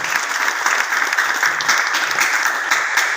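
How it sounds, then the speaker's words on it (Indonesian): An audience of about 1,500 at a conference claps steadily, a dense, even patter of applause holding at the same level throughout. "Tepuk tangan buat Laboratorium Indonesia."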